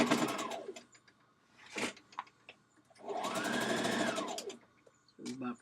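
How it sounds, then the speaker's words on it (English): A sewing machine stitches along a dress hem in two long runs, with short pauses of softer handling between them, and a brief burst at the end. "we're stitching right at the edge of the dress"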